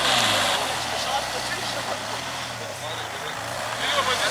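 A truck reverses with a low, steady engine rumble under a broad wash of outdoor noise, while people nearby call out directions.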